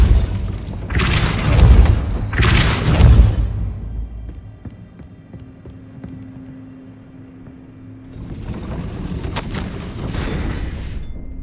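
Depulso spell cast in Hogwarts Legacy: two loud, broad whooshing blasts in quick succession, then quieter rumbling and mechanical clatter as something shifts, with no talk.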